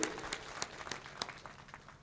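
An audience applauds a speech at a public gathering: many hands clapping in a steady patter, faint and somewhat distant, with a few sharper claps standing out.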